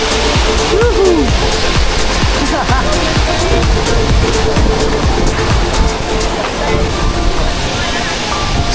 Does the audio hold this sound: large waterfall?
yes